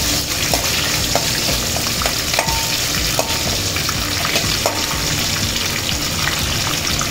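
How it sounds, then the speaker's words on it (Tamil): Garlic fries in hot oil in a pan with fried drumsticks, a continuous close sizzle and crackle with light stirring, steady and loud, without talk. "இந்த பூண்டையும் இதில் சேர்த்துக்கணும். சேர்த்துட்டு கொஞ்சம் நல்லா பொரிய வச்சுக்கணும்."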